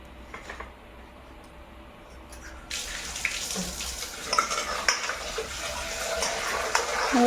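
Potatoes being washed under running tap water in a home kitchen, a steady close splashing hiss that swells louder partway through, with no talk.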